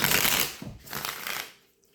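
Brisk riffling and flapping of a card deck being shuffled, two quick bursts close by, then fading to near silence.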